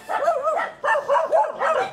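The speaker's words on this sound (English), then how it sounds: "Got various dogs barking at me" Dogs bark repeatedly along a town street in San Pablo City, a loud, close series of rhythmic barks in quick bursts with short pauses between, and no talking over them.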